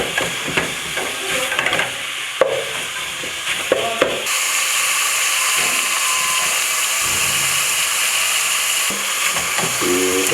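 Meat sizzling loudly in hot oil as samosa filling fries, with scraping stirs and clinks in the first seconds, then a steady, dense, close-up hiss.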